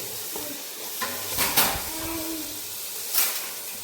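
Ground coriander leaf and mint paste sautéing in a pan for chicken biryani, a soft steady sizzle and hiss with a few scraping stirs and clinks, no talking.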